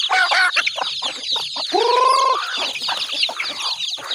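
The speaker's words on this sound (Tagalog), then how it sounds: "ipakain ko mga idol sa aking mga alagang manok" Pet chickens clucking near and loud while being fed leftover burnt rice, overlapping clucks and short calls in a busy flock, with a rooster's sustained crow-like call rising midway.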